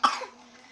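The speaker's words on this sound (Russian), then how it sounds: "ты не устала кашлять?" A young girl gives a single short cough, close and fairly clear, with a faint tail trailing off afterward and no talking.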